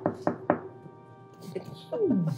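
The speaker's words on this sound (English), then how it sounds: "You hear another knock" Three quick knocks on wood in a steady rhythm, close and crisp, followed by quiet and then a voice speaking with a sliding tone.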